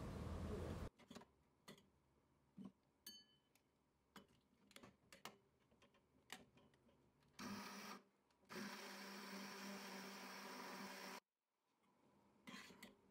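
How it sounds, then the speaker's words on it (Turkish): Raspberry sauce with starch and water being puréed by a blender in a kitchen, coming in two sustained loud bursts of motor whir with short gaps, alongside scattered clicks and kitchen knocks. "blenderla çekelim."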